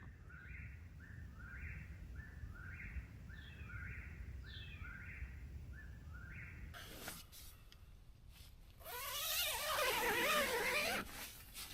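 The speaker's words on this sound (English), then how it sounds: "The birds are like a little alarm clock this morning" Morning birdsong on a Florida Trail campsite: a bird repeats a short, bright, rising phrase about a dozen times at moderate distance, then rustling and a louder scraping burst cover it near the end.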